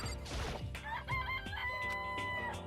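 Game chickens cluck and crow in Danganronpa, short bursts of fowl calls layered over background game music and effects.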